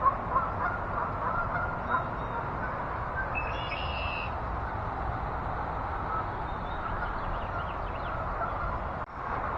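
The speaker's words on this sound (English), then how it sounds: "Oh, look at the geese." Geese flying over a garden, honking faintly and briefly at a distance over a constant wash of outdoor background noise.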